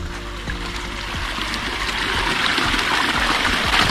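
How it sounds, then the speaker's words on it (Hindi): Water rushes steadily out of a borewell pipe on a farm field, a loud, continuous gushing splash that builds slightly in strength, with no voices over it. "इस साइड बोर से निकल रहा है पानी"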